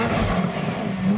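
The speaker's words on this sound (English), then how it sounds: "V12 Harmony is just the sweetest sound an engine can make" A Lamborghini Murcielago V12 engine fires up at a key twist and settles into a loud, close, rich idle with a steady low hum and slight rises in revs, with no talking.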